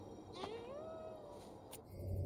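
A cat in Ghostwire: Tokyo lets out a single long, wavering meow that bends upward then trails off, heard clearly over a steady low ambient hum, followed by a brief sharp tick.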